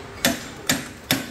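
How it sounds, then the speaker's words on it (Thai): Three sharp metallic hammer blows, evenly spaced and close, drive a tightly fitted bushing into place on a motorcycle rear swingarm mount. "ก็ตอกมันตั้งหน่อยนะเพราะว่าผมทำมาค่อนข้างฟิต"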